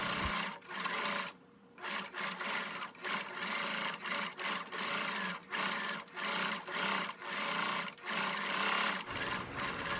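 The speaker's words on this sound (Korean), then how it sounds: "봉제 후에 겉면에서 탑 스티치로 한 줄을 더 박음질을 해줍니다." Sewing machine top-stitching along the edge of an embroidered shirt-collar dress, a close, steady mechanical whirr in repeated short bursts with brief pauses between runs.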